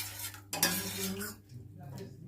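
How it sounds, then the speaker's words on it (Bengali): Orange-peel tea sweetened with cane jaggery is strained, with soft clinks of a metal strainer and cup, a small clatter near the middle, quiet and close with no talking. "এবার চাটা ছেঁকে নিই।"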